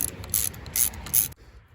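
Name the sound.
10mm wrenches removing motorcycle brake lever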